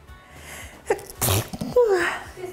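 A single sharp human sneeze in a home kitchen, a quick inhaled buildup followed by a loud burst, then a short voiced trailing sound, fairly close.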